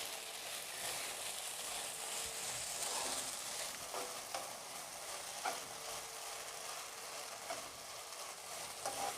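Vermicelli and carrots stirred in a cooking pan, a quiet steady sizzle with scraping spoon strokes and occasional clinks, no voices.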